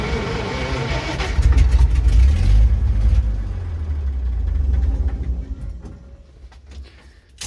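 A 1951 Brockway truck engine cranks with the choke out and briefly catches, swelling to a rough low rumble before dying away over several seconds, loud and close with no talk.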